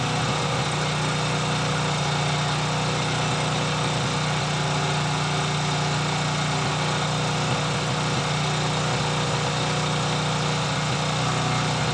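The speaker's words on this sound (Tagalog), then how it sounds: "Parang backfire eh, no? Parang backfire siya." Small engine idling with water in its fuel, a steady close drone broken by faint backfire-like misfires and a constant rough vibration, with no speech.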